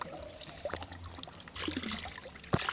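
Water trickling and pouring into a container at a spring in a forest park, a faint continuous flow with small splashes, fairly close.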